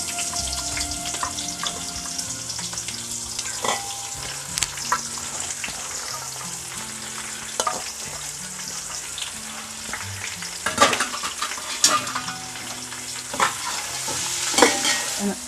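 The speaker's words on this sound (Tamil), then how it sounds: "கொஞ்சமாக சால்ட்டு மிக்ஸ் பண்ணி வதக்கிக்கோங்க. அப்போ தான் வெங்காயம் சீக்கிரமாக வதங்கிடும்." Onions with a little salt being sautéed and stirred in a pan of oil with whole spices for mutton biryani, a steady close sizzle with frequent scraping stirs and occasional clinks of the spoon.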